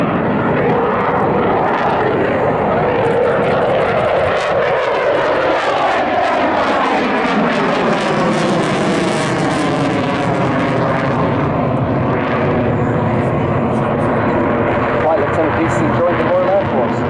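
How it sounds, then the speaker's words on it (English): At a seaside air show, a Eurofighter Typhoon makes a slow pass with reheat, its jet roar loud and continuous throughout as the pitch sweeps downward and then climbs; an announcer talks over it. "Get your cameras ready to see the reheat as he goes into a slow and dirty"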